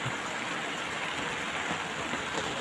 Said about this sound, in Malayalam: നല്ല മഴയെന്ന് പറഞ്ഞു കഴിഞ്ഞാൽ നല്ലപോലെ പെയ്യുന്നു കേട്ടോ